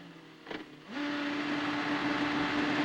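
A CART race car rolls down pit lane at the speed limit, its engine holding a steady, sustained drone after a brief rise. Broadband hiss lies underneath and no one talks.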